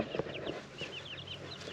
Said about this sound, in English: First time the chickens have seen grass, most of them anyway.